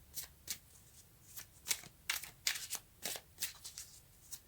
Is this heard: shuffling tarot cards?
yes